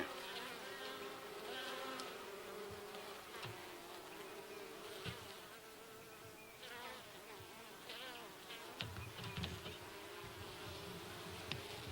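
Honeybees buzz around a hive in February, a continuous droning hum of many insects with passing individual bees swelling louder nearby, no voices.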